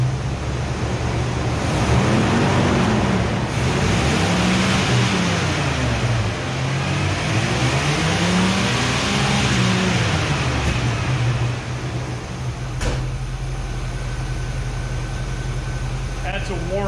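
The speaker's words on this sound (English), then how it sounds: "Let's rev her up, see how it responds." A worn small-block V8 idles at a low rumble, then revs up hard in several rising and falling sweeps before settling back, with the rough, uneven throb of a tired engine running close by.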